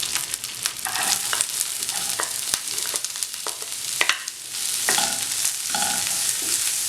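Onions and green chilies sautéing in a pan for Kerala-style chilli fish, a constant close sizzle layered with repeated scraping and clattering of a spoon as the mixture is stirred.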